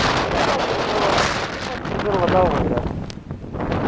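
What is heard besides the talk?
strong blizzard wind, about 50 mph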